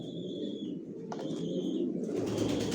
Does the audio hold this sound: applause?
no